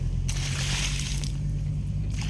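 Water sloshes close and continuously over a steady low hum, in a scene about a motorcycle engine that died after sucking in water.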